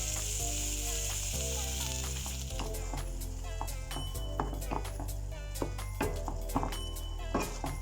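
Pork sizzles and fries in a pan with hoisin sauce and water, a loud, continuous crackle broken by occasional stirring clinks and scrapes, with background music underneath.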